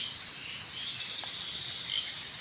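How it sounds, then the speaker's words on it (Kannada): Frogs croak at dusk in a steady outdoor chorus with insects chirping along, faint and continuous with a distant, layered texture. "ಕಪ್ಪೆಲಿನ ಸೌಂಡ್ ಒಂದು"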